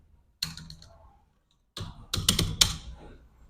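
Typing on a computer keyboard while entering text into an MS Excel spreadsheet: a short burst of clicks, a pause, then a louder run of quick keystrokes close up, with no talk.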